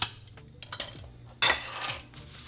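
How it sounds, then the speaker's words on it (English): Metal utensil stirring food in a cooking pan, with scraping clinks and a louder burst of stirring midway, close and alone without talk. "I just give a quick stir."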